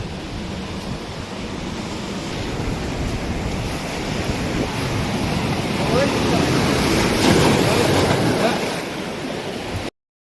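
Sea waves at Gangavaram Beach near Vizag wash steadily against rocks, a broad continuous surf roar with wind buffeting the microphone, swelling slightly louder toward the end.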